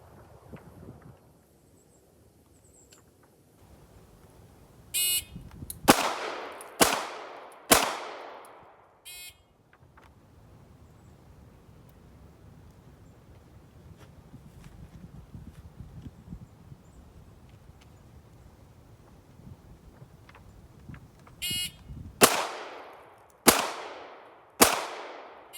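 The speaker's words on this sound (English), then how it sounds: "on a second signal to fire, I'll fire 3 more rounds, non-dominant hand only into the target" Two strings of shots from a Smith & Wesson 469 pistol during a law-enforcement firing qualification, each a quick burst of about three sharp, loud reports. Beeps from a shot timer come just before each string, with long windy, quiet pauses between them.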